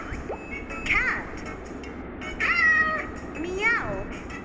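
Three distinct meows from a cat, each a short wavering cry spaced about a second or more apart, heard close up over a soft steady background.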